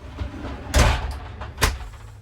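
An RV camper door lock is worked at close range, with two distinct clunking clicks about a second apart over quiet room noise.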